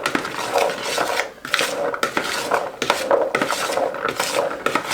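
A spoon stirs spices into chickpeas in a bowl, giving repeated rasping, scraping strokes in uneven bursts, close and fairly loud, with no talk.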